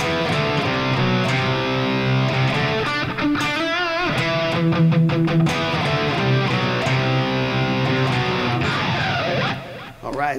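A distorted electric guitar plays a metal riff, loud and continuous with chugging chords and bending lead lines, no talking.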